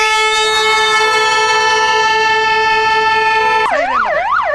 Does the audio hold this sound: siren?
yes